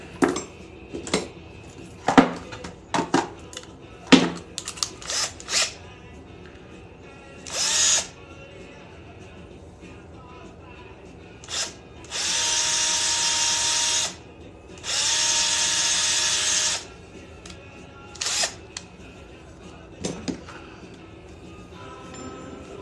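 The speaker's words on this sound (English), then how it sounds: "give you a quick polish with stainless steel or with steel wool, and that'll show us what it looks like" Rotary tool polishing a silver pendant, with short bursts of high whirring separated by scattered clinks and handling taps of metal, the longer buzzing passes coming near the middle.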